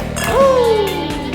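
At a family dinner toast over makgeolli and grilled meat, glasses meet in one bright, close clink whose ringing tone fades over about half a second, with low murmuring voices around it.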